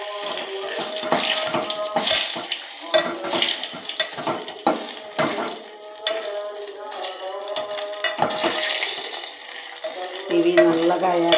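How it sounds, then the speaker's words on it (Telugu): Salted dried red chillies fry in hot oil as tempering for gongura dal, giving a continuous crackling sizzle with occasional stirring clinks against the pan. "ఇవి నల్లగా వేగాలండి"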